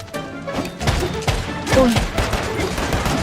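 Gunfire in the online survival shooter Once Human: bursts of rapid shots and heavy thuds in a PvP raid, close and loud, with players talking excitedly over it.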